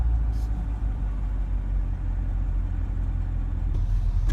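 A Chevrolet C7 Corvette's engine runs at a steady low idle, a constant deep rumble close by and unchanging throughout.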